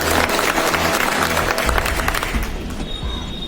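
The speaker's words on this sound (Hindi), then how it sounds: "बड़ी हल्की तालियां, ये बात है" An audience at a Diwali celebration claps in a dense, loud round of applause that thins out toward the end.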